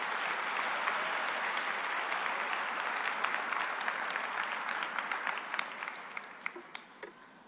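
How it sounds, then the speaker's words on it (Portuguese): A church congregation applauds together, dense clapping from many hands that holds steady and then thins out into a few scattered claps as it fades. "vamos aplaudir ao Senhor"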